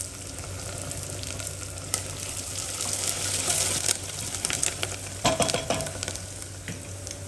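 Curry leaves sizzle hard in hot oil for a chicken curry, a loud steady crackle with scattered pops and a stirring clatter, no voices.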